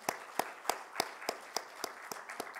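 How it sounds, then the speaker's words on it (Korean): Clapping comes from a church congregation at a Sunday worship service. About nine sharp, evenly spaced claps sound in unison at a steady rhythm, moderately loud in a reverberant room. "우리 다 같이 박수 한번 치시겠어요?"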